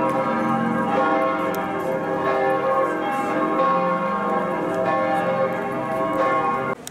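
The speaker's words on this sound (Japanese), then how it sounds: "教会の鐘が鳴ってる横で皆さんはビールを飲んでいらっしゃいます" Church bells ring out continuously in Munich, their dense overlapping peals filling the air beside a crowded beer garden, loud and sustained with no clear talk.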